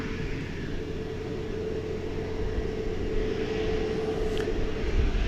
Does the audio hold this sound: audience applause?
no